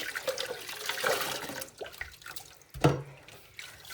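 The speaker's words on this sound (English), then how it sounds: "Let's give them a little rinse through." Fruit rinsed under a running kitchen tap, a splashing rush of water that swells and drops off, with clattering drips and a sharp knock near the end, close by and without voices.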